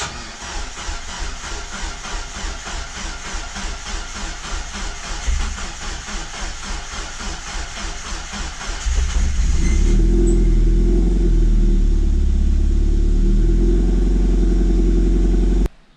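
Mazda MX5 engine with a sticking Skunk2 throttle body, cold-cranking with a rapid chugging starter rhythm for several seconds, then catching and settling into a loud, deep, steady idle before being shut off abruptly.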